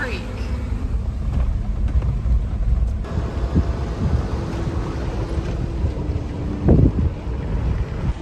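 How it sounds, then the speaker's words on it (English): An off-road vehicle rumbles through the water of Onion Creek near Moab, Utah, with a steady low engine drone and heavy wind buffeting, rising briefly in a splashy surge near the end. "This is our 9th crossing of Onion Creek."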